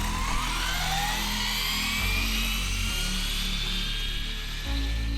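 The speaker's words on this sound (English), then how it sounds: "That's full beans. It takes so long to wind up. Here we go. Full throttle already, right off the bat." Brushed Arrma Infraction RC car on a 6S battery runs its motor at full throttle, a loud steady high-pitched whine with rising tonal sweeps and a constant low drone, no talk.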